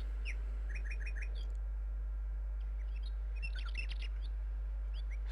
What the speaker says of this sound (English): Hey, Woodpecker. Just noticed you.